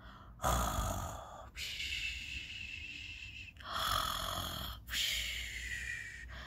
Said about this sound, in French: Il s'affale à même le sol et s'endort en ronflant.